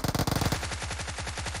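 Rapid automatic fire from a Thompson submachine gun in a shooter game, a fast, even rattle of close, punchy shots that continues throughout.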